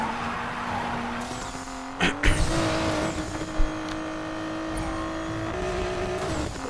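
A race car in the video game Need for Speed Payback drives with a steady engine drone, and bursts of tire squeal and skidding break in partway through.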